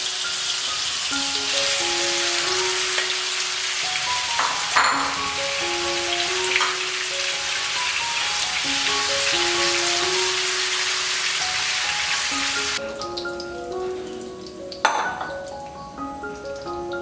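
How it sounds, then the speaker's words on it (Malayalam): Chicken pieces deep-fry in coconut oil with a constant bubbling sizzle under a light melodic music bed, and an occasional metal clink from the pan. "ബാക്കിയുള്ളതും കൂടെ ഇതുപോലെ വറുത്തെടുക്കാം."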